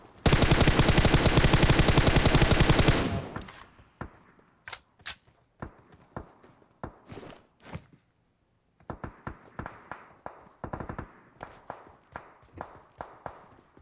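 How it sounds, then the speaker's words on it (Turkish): Gunfire in PUBG Mobile: a sustained burst of rapid automatic fire for about three seconds, then scattered single shots and short volleys, some near and sharp, others fainter, with no talk over them. "Hemen silah seslerine gideceğiz."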